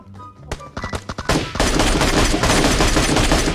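Automatic rifle fire in the mobile battle-royale game PUBG Mobile: a few sharp isolated shots at first, then dense, continuous loud bursts of rapid gunfire filling the rest.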